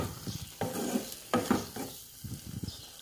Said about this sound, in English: Lutuin lang natin ng konti pa yung ating cheese